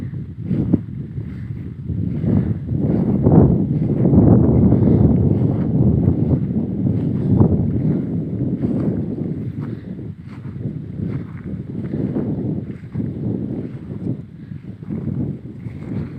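Dry, cold wind blows steadily across an outdoor garden plot in Thailand's cold season, a continuous rumbling gust noise buffeting the microphone for the whole stretch with no talking.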